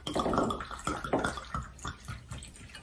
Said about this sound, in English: Pour in my vodka.